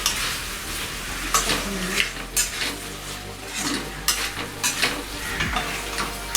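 Ginger chicken pieces stirred and frying in a pan, with a steady sizzle under scraping utensil strokes against the pan and several louder clinks spread throughout.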